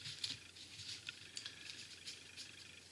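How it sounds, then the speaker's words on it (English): A deck of cards is shuffled by hand, giving faint, soft papery riffles and flicks in short, irregular bursts over quiet room tone. "So I'm shuffling the cards."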